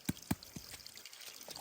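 Water is poured over a pig lying in its muddy wallow: two quick close splashes, then a softer third, followed by a faint trickle.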